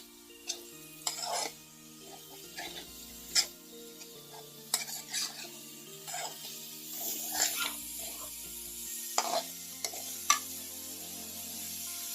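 Ginger, garlic and chilli being sautéed over high gas in a pan: a faint, low sizzle under repeated sharp clinks and scrapes of a spatula against the metal, with a steady electrical hum underneath.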